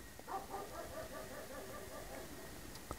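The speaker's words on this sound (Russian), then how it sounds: "Интересно, вы сейчас слышите, как она лает?" A dog barks repeatedly in the background of a room, its yips and barks fairly faint and continuous, with a sharp click near the end.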